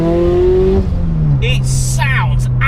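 Turbocharged Subaru BRZ engine revving hard, a strong droning tone that climbs and then drops and settles into a steady hum, with sharp hissing and chirping bursts later, loud and close throughout.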